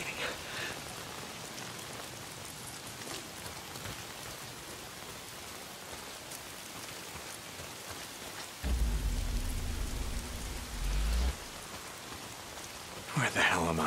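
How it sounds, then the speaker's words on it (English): Steady rain hisses throughout in the video game Days Gone, with a deep rolling rumble of thunder swelling midway and fading, then a brief louder burst near the end. "Why is it always raining?"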